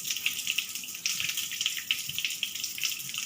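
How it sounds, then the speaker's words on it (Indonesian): Tap water runs steadily from a faucet to rinse a dog bite wound, an even hissing stream with small splashes. It stays close and constant, with no talking. "kita bersihkan ya, Bu, menggunakan air mengalir"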